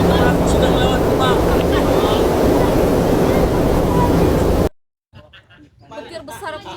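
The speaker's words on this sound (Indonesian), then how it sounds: "Tiba-tiba badai datang, angin bertiup kencang, gelombang air laut naik," Loud roaring surf and wind in a staged storm sound effect with rising sea waves for a drama, continuous and dense, then cutting out abruptly as people speak.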